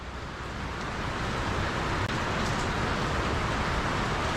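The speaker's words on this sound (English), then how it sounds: "I'm hiding from the rain. Hannah's getting rained on." Steady rain falls outdoors as a dense, even wash of broadband patter that holds throughout at moderate loudness, with no voices.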